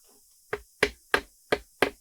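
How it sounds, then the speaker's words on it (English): Five sharp hammer taps driving in a wall anchor, evenly spaced about a third of a second apart, ringing close and clear against a quiet background. "take your hammer,"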